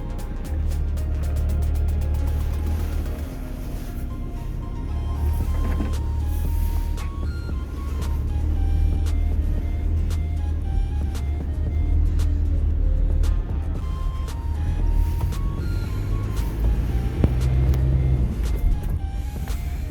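A 2014 Ford Transit van drives along the road with cruise control engaged, filling the cabin with a steady low engine and road rumble that swells slightly at times, with no talking.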